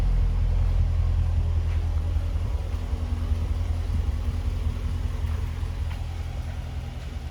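A 2012 Dodge Challenger SRT8 with the 392 Hemi V8 idles with a deep, steady low rumble and chug that stays close and even throughout, with no voices.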